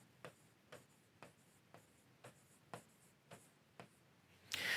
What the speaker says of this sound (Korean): 여기다 다시 한번 써보겠습니다.